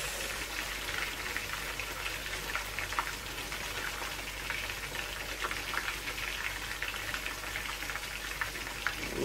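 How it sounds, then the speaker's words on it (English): Fish seared in a hot pan for Jamaican-style brown stew fish gives off a constant, fine crackling sizzle, like steady rain, at moderate loudness with no talking over it. "They're not frying, they're just sealing the meat"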